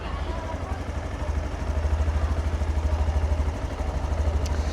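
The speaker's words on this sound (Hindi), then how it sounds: "अब बाइक स्टार्ट हो रखी है, थोड़ा दूर जाएंगे तो इंजन की आवाज़ भी आपको मैं सुना देता हूँ।" A Bajaj Platina 100 motorcycle with a 100 cc engine runs close by, a low, fast, even exhaust putter that swells slightly and holds steady.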